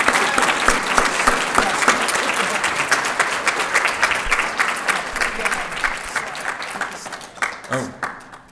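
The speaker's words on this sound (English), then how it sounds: "Let's give a big round of applause to Lauren Haynes." Indoor audience at an award ceremony applauding loudly, with dense sustained clapping that gradually thins and fades toward the end.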